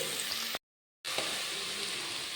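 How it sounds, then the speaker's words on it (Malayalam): Tomatoes sauté in a pan for a Kannur-style chicken biryani, a steady soft sizzle and crackle with a short silent gap partway through. "ഇനി നമുക്കിതിൽ തക്കാളി ചേർക്കാം."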